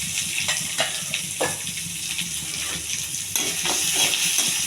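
Curry leaves and chopped onion fry in hot oil in a pan, giving a steady close sizzle with small crackling pops throughout, unbroken by talk.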